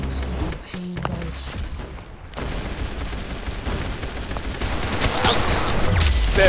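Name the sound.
gunfire in the video game Arsenal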